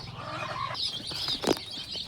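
Chickens and chicks on a farm clucking with a brief burst of flapping wings midway, fairly quiet and close, over faint background noise.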